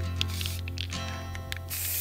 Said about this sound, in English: I had to turn the cap and start spraying it